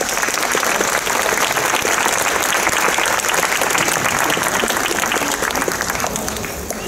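A large audience at a poetry night gala in Chojnice applauds a prize winner walking up to the stage: loud, thick, continuous clapping that fills the hall without letup.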